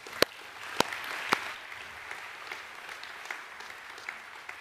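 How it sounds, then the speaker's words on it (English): An audience applauds at a school academic assembly in a steady patter of many hands, a few loud individual claps standing out early on, at moderate distance. "Give yourselves a round of applause."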